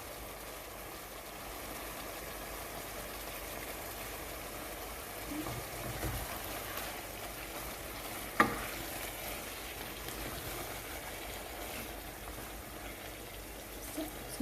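Chicken with bullet chilies sizzles in a pan, a soft, steady frying hiss at low level throughout, with one sharp clink partway through.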